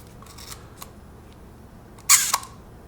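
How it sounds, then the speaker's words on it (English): A Kiev 4 rangefinder camera's shutter opens and closes with a sharp, close metallic double clack, following a few faint mechanical clicks of the winding and controls beforehand. "The shutter actually opens and closes."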